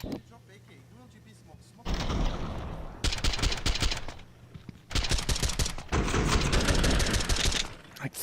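Rapid bursts of gunfire in a Counter-Strike match, loud and dense in two long stretches separated by quieter moments, with a commentator's voice running underneath.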